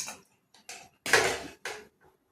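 A spoon stirs and scrapes fried onion and green chili in a pan, making a few short, separate metallic scrapes and clinks with quiet gaps between them.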